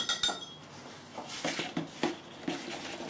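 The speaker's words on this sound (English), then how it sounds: "Whisk it up a bit." Vanilla ice cream mix whisked in a bowl, a few quick clinks and scrapes of the whisk against the sides in short irregular bursts, fairly quiet and close.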